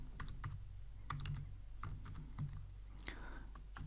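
Quick, irregular keystrokes tap on a computer keyboard as an SQL update command is typed, close and fairly quiet with short pauses between bursts of clicks.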